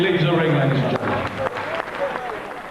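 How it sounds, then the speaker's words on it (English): A boxing crowd applauds a fighter leaving the ring, a dense wash of clapping and cheering that fades over a few seconds while a ringside announcer keeps talking over it. "So let's give a big round of applause to Paul Wesley as he leaves the ring"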